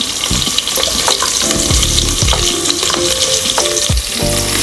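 Chopped onion frying loudly in a pot for a South Indian one-pot dish, a dense continuous sizzle broken by repeated stirring scrapes and clatters.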